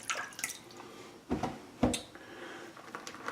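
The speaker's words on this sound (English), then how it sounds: "I'm just going to dribble a little more water in there." Small splashes of water dribbled into a bowl of shaving soap, a few short, close drips and trickles, two clearer spatters standing out among quieter handling noises.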